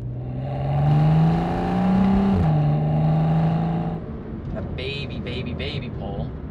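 A 2012 BMW 135i revs up as it holds a gear, drops sharply on a quick downshift, and carries on at steady engine drone. The sound is loud and close. Quieter chirping noises follow at the end.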